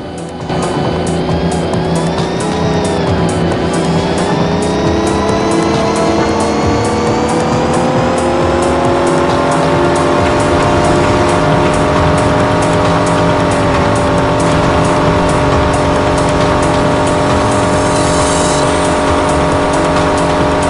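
Engine drone and tire noise from a car chase in the Knight Rider video game, a loud continuous engine tone that rises and slowly shifts pitch for about twenty seconds without pause.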